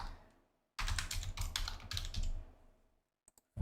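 Quick, close typing on a computer keyboard, a dense run of key clicks lasting about two seconds followed by a couple of isolated taps.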